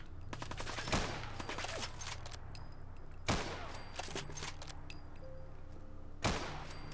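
Gunfire in Fallout 4, three sharp shots spaced a few seconds apart, each with a short echoing tail, over a steady game background hum and low music, with no talking.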